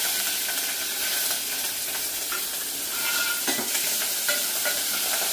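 Sliced onion and dried red chillies fry in oil in a pan, a steady close sizzle with occasional stirring scrapes and soft clinks, no voices.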